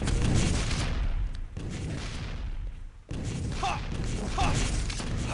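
Rocket launcher blasts from a Quake Live match in a 250 FPS finals game, dense bursts of explosions and weapon fire layered with game noise, with a brief lull before the action resumes.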